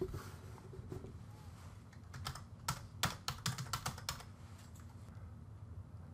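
Short typing on a computer keyboard while an assignment title is entered: a quick run of distinct key clicks at moderate closeness over a steady low room hum, with no talking.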